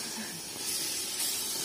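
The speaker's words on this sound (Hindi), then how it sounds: "प्याज को बढ़िया से भूंजा जा रहा है अभी बहुत ही तरीके से।" Onions sizzle in a pan while being fried, a steady loud hiss that swells slightly partway through, with faint voices in the background.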